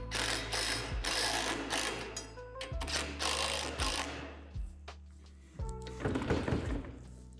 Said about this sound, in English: secure the nuts. Only tighten until the rim doesn't wobble.